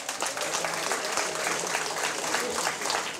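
Warm audience applause at a French dictation contest awards ceremony on a campus, a steady wash of many hands clapping at moderate level without a break.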